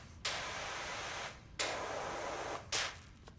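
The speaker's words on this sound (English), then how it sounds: "Can I spray the cat?" Pressure washer water spray in PowerWash Simulator 2, three sustained hissing bursts separated by short pauses, loud and close with no talk.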